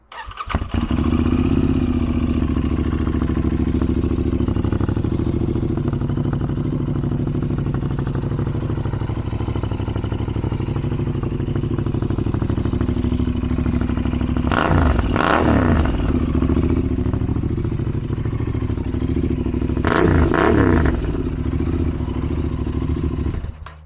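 A Royal Enfield motorcycle fitted with a TEC Stinger 2-1 exhaust and no silencer idles loudly and steadily up close in a parking lot, with two short throttle blips partway through.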